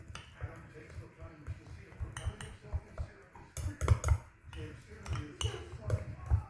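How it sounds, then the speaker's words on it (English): A spoon stirs a sloppy sourdough starter of flour and water in a container, giving irregular scraping knocks and a few sharp clinks against the vessel, fairly quiet and close. "So give it a stir. It's going to be a little bit sloppy."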